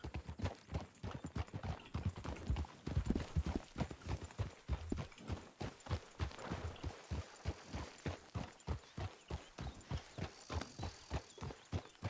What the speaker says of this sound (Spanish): El caballo se está yendo a la derecha